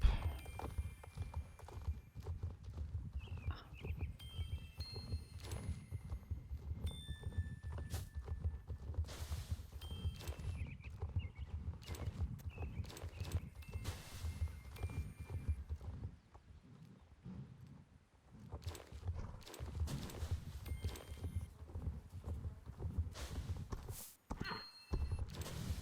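Horse hooves clip-clopping steadily in the video game Star Stable Online, a continuous rhythmic trot at moderate volume with occasional whinnies and game effects over it.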